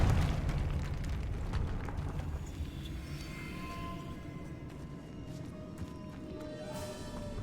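In Hogwarts Legacy, a Confringo fire spell explodes with a booming burst at the start, then a fading rumble and crackle that dies away under quieter game ambience.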